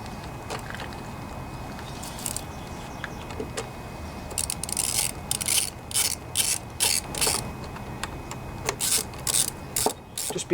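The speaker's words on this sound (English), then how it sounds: "Just be careful when you're tightening this up that nothing gets bound up. The bolts should go in nice and smooth." Bolts are tightened on a John Deere 14PB lawnmower with a ratchet, bursts of quick close clicking that grow louder and more frequent in the second half, with a little background noise.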